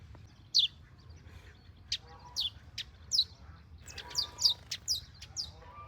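Small birds singing outdoors on an open farm, several short bright chirps and trills scattered over a steady low rumble of background noise, moderately distant and with no talking.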